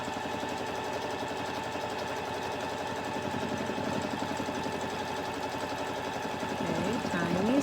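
Sewing machine runs steadily while free motion quilting tiny stitches, giving a continuous fast mechanical whir and rapid needle chatter heard close throughout, with a slight rise in loudness near the end.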